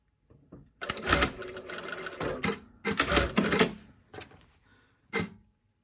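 A sewing machine stitches a short run on a small triangle of fabric at a cathedral placket, giving close, loud bursts of rapid mechanical stitching broken by brief pauses, with a final short burst near the end and no talk.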